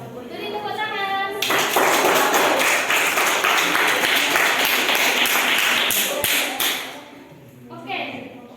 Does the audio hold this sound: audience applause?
yes